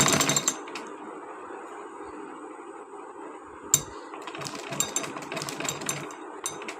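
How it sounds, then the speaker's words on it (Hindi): A sewing machine runs a double seam on a child's suit in short, quiet bursts of rapid mechanical stitching, with a clink and small handling knocks in between. "डबल सिलाई मैं पहले लगा लेती हूँ इसकी"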